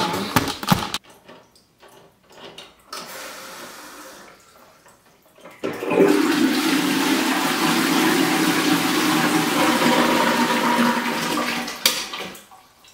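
A household toilet cistern flushes and refills through a float valve: a few clunks and a brief rush give way to a steady, close hiss and gurgle of water refilling that runs for several seconds before tapering off.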